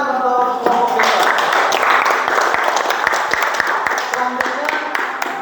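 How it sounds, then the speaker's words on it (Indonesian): Class in a teaching-practice session applauds the other group, steady clapping from a roomful of students with sharp individual claps standing out, while a voice speaks over it. "Tepuk tangan untuk kelompok yang lain."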